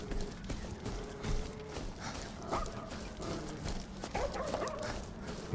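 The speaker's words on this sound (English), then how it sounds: "there's a dog in this building here." A dog in a video game barks and whimpers in short, faint bursts, with scattered yips and other quiet game sounds around it.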